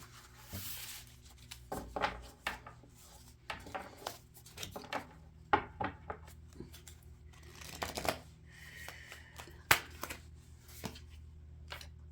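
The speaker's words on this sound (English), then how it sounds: "let's pull a card for each one of these cards that are here to bring a little bit more clarity" Tarot cards are drawn from a deck and laid down, producing a string of soft, close papery flicks, slides and light taps at irregular intervals against quiet room tone, with no speech.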